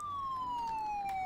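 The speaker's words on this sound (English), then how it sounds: "And the siren sounds good, too, I must say." A fire truck siren in Farming Simulator 19 wails as one steady, slowly falling electronic tone, clear and fairly loud, with faint engine rumble beneath and no talking.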